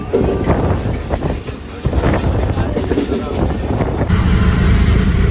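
A Mumbai local fast train runs near Dadar with a loud, continuous rumble and roaring wind buffeting, a steady wash of noise with a voice talking over it.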